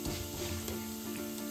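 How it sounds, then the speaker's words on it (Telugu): Mustard seeds, fenugreek and cumin sizzle steadily in hot oil for a Telugu dosakaya chutney, a close, continuous crackling fry with no talk. "ఆయిల్ పోసుకొని ఆవాలు, కొంచెం మెంతులు, కొంచెం జీలకర్ర"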